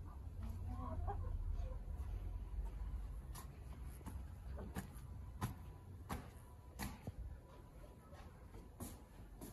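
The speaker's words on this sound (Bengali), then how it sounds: "দেখো মুরগি, এই মুরগি ডিম পাড়াইছিস?" A chicken clucks softly now and then over a low rumbling background, with faint rustling and shuffling nearby; nobody speaks.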